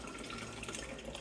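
Apple cider with spices and bits of apple and pear is ladled through a mesh sieve, a steady close pouring and splashing of liquid with no talk.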